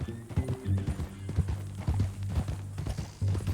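Horse hooves clip-clop in steady repeated strikes in Red Dead Redemption 2, close and fairly loud over a low droning background, with an occasional whinny-like sound.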